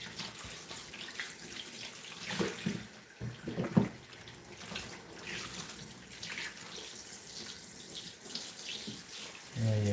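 Cool tap water runs steadily while a dog is bathed during grooming, a continuous splashing flow with brief louder bursts and a faint voice near the end.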